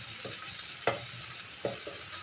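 Half a large onion, cut into small slices, frying in a pan for okra with pounded anchovies, a soft sizzle broken by a few brief stirring scrapes.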